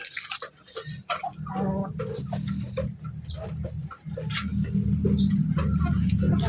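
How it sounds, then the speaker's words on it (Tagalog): Rhode Island Red hens clucking nearby, with several soft overlapping clucks and calls above a low rumble of background noise. "Mga Rhode Island Red na babae."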